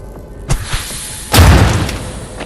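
A smoke grenade in the video game Mutant Year Zero goes off with a soft thump and then a loud, broad whooshing burst that fades over about a second.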